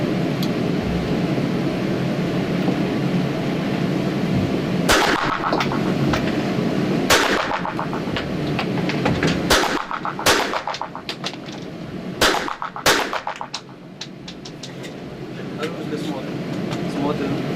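Sharp gunshots at a police shooting exercise in Ingushetia, a series of loud single cracks at irregular intervals, some in quick pairs, over a steady background hum with people talking nearby.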